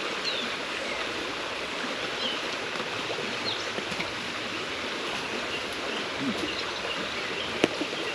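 Steady rain patters on a tent during truck camping, a dense even hiss with occasional sharper drops, constant and moderately quiet throughout.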